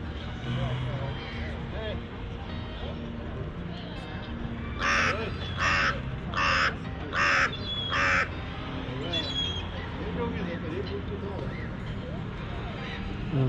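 Birds at Oslo harbour being fed bread, with a run of five loud harsh caws mid-clip over a steady background of harbour noise and a low engine hum, while a person talks.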